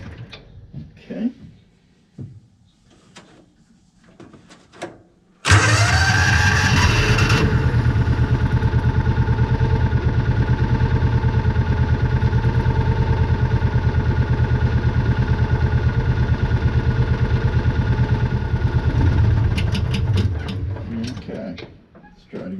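A 2001 John Deere Gator 4x2 utility vehicle engine, started without choke, cranks briefly, catches abruptly and runs steadily and loudly for about fifteen seconds before shutting off, with some quiet talk before it starts.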